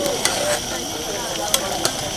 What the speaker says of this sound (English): Let's stir it a little bit.